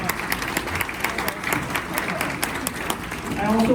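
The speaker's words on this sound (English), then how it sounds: "let's give them a round of applause" Luncheon attendees at a chamber of commerce gathering give a round of applause for board members, a continuous crowd clapping that swells slightly near the end, with a voice briefly audible.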